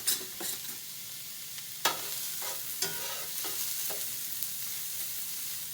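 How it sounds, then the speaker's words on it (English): Garlic sautéing over medium heat, a steady soft sizzle broken by a few sharp scraping stirs of a utensil against the pan, close and without talk. "Now, I'm going to saute this for about 4 or 5 minutes so they start to soften up"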